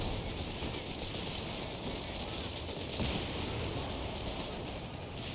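Machine gun fire in Company of Heroes 3, a continuous dense clatter of rapid bursts mixed into a loud, busy battle din with no clear pauses.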